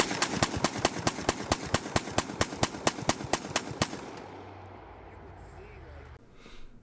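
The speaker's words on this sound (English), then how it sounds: "So here it is under rapid fire." A Canik TP9 SFX pistol fires about twenty sharp, evenly spaced gunshots in quick succession, loud and close, before the shooting stops and a faint low hum remains.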